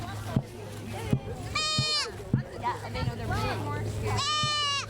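A friendly female goat inside a fenced pen bleats loudly and close by, two wavering bleats separated by a few seconds over a low steady hum and background noise.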